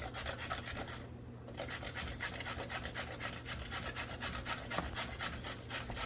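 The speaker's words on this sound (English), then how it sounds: "So you can grate your zucchini" Zucchini rubbed back and forth against a hand grater, a steady run of rasping strokes close up, with a brief pause in the middle and then continuous grating to the end.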